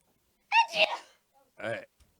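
A single loud, close sneeze with a sharp intake and burst, followed a moment later by a short voiced sound.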